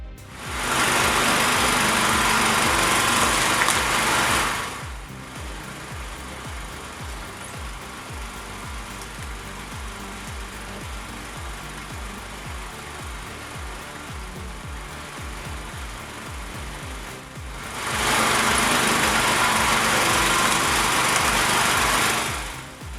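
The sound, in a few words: firewood processing machine with thermal engine and cutting blade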